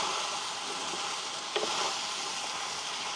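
Brinjal sautés in a pan with dried stingray fish, a steady close sizzle with a single brief scrape of stirring near the middle.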